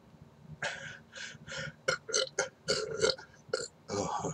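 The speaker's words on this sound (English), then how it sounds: "Massive burp. Triple burp." A long, loud series of burps, several in close succession after a guacamole snack, close to the mic with no talking.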